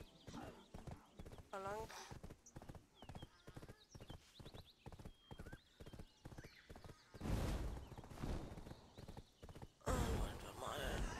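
Horse hoofbeats in a video game, a steady rapid clip-clop gallop with a whinny early on, loud and close, while someone talks briefly over the riding.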